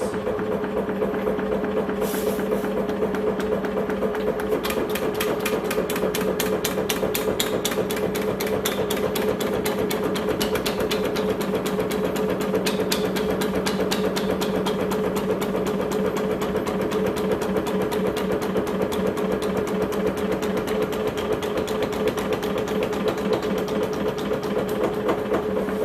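A sheet metal flanging machine runs steadily through its final 90-degree pass, a loud continuous mechanical drone with a fast rhythmic clatter throughout, close and alone with no talk.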